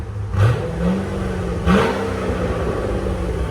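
Two loud, close throttle blips from a 2007 Chevy Corvette Z06 7.0L V8 on its stock exhaust, about 102 decibels, each a deep rising roar that drops back to a rumbling idle.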